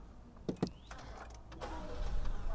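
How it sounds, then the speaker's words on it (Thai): A couple of soft clicks, then the quiet 1.0-litre turbo engine of a 2021 Honda City catches on push-button start and settles into a low, smooth idle close by. "นี่เครื่องติดแล้วนะคุณผู้ชม"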